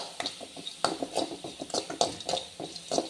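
Horse gram, cumin, pepper and lumps of asafoetida are dry-roasted in a pan, with rapid rattling and scraping as a spoon keeps stirring the grains against the metal, close and steady.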